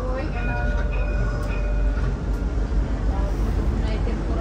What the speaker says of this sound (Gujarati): આ ટ્રેન છે અહીંયાની